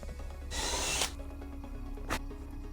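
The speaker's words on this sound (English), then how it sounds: "And I'm just going to drill all the way in." A power drill bores into a plastic part of a homemade Boba Fett jet pack in one close half-second burst, followed by a brief second whir after a pause.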